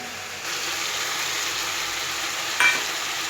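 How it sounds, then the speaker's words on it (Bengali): Malabar spinach curry with green and ripe chillies frying over low gas heat, a steady broadband sizzle throughout with a brief louder stir or scrape near the end, no talking. "দিয়ে আরও ভালোভাবে, গ্যাস কিন্তু হালকা, কষিয়ে নেব।"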